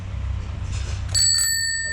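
An antique bicycle's bell rings once, bright and close, its tone sustaining to the end over a low background rumble.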